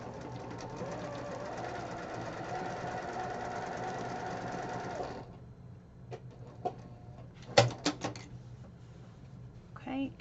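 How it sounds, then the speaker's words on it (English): Sewing machine stitching quilt pieces together for a Christmas block, a steady mechanical run that stops about halfway, followed by light clicks, handling noises and a faint voice. "I'm going to sew these two together and then sew these two together"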